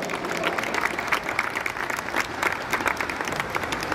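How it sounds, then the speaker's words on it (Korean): Steady applause from a crowd welcoming guests at a high school baseball tournament opening ceremony, dense continuous clapping across the whole stretch at moderate loudness, with no clear talk over it. "박수로 두 분을 모시겠습니다."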